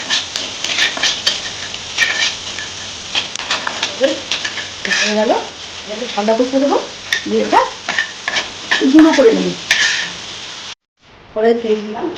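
Cloves, cinnamon, cardamom and cumin frying in oil for a cabbage curry, giving a continuous close sizzle with occasional clinks of a utensil, while someone talks over most of it.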